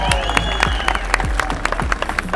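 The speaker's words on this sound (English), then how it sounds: "So give yourselves a big round of applause." Festival crowd at an outdoor RC off-road event applauding, scattered claps and cheers over a low rumble, with sharp individual hand claps standing out against the background din.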